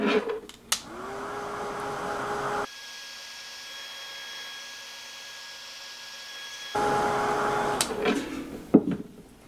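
Heat tool blowing to dry Distress Oxide ink on a craft background, a loud steady whir that starts with a click, runs for several seconds and then cuts off, with handling clatter before and after.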